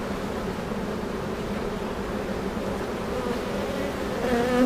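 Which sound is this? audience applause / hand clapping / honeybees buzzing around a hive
honeybees buzzing around a hive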